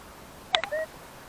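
A Kvazar ARM metal detector gives a brief, close, ringing chirp of a few short tones over a target in a field after a soybean harvest.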